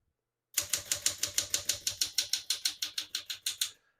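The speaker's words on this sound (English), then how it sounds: "We're going to keep that on single for now and finish typing." A 1966 Smith-Corona Sterling portable typewriter types a line in single-spacing mode, giving about twenty crisp, evenly paced keystrokes that ring out loud and close, alone with no talking.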